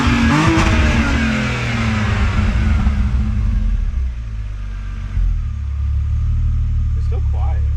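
A BMW E46 fitted with catless headers revs hard with a loud, raspy engine note. The pitch climbs, then falls back and holds at a steady drone, with a voice speaking close by.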